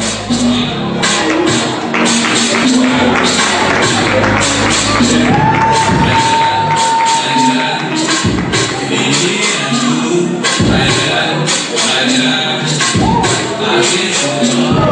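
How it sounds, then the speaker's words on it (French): Loud crowd applause mixed with cheering, whoops and shouts, energetic and continuous with bursts of voices rising over the clapping. "Merci d'applaudir."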